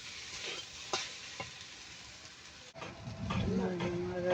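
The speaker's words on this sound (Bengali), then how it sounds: "চলো ভেন্ডি ভাজি করতেছি।" Okra (bhindi) frying in a pan, a sizzle that starts faint with a few clinks and stirring taps, then grows louder and steadier in the second half as the pan crackles close by.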